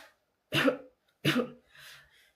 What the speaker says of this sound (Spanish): fingir mi tos